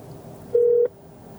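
A single short telephone keypad tone, a clean steady beep of under half a second, close and clear over a quiet background.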